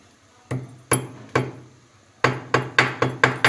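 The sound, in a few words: pounding cloves into coarse powder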